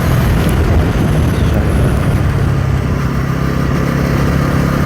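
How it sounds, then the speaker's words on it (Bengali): A motorcycle engine runs steadily while riding along a rough road, a loud continuous low drone with rumbling road and wind noise throughout, no voices. "এখন ইঞ্জিনের সাউন্ডটাও কীরকম আসছে"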